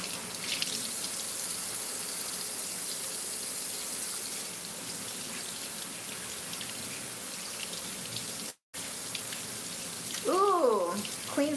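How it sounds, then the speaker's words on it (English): Heavy rain falls in a steady, dense patter and wash, constant and fairly close, with a brief dropout near the end followed by faint voices. "It is raining harder now."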